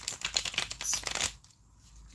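A deck of tarot cards being shuffled in quick riffling bursts for about a second, then near silence.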